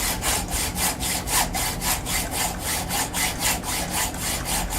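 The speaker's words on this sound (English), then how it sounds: "A vise and a hacksaw." A hacksaw cuts through a UK 59 gun barrel clamped in a vise. Steady back-and-forth rasping strokes repeat quickly and evenly, about three or four per second, close up with nothing else heard.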